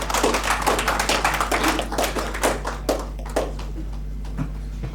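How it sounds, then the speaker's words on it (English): A small group at an NGO community meet-up in Goa claps, loud at first and then thinning out to a few scattered claps, over a steady low mains hum. "A huge round of applause."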